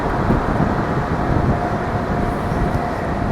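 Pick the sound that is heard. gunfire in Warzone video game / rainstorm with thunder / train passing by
train passing by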